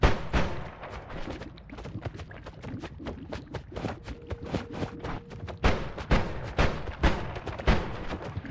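Wand spells fire in the Noita game as a rapid series of sharp cracking bursts and thumps, irregularly spaced and moderately loud, with no talk.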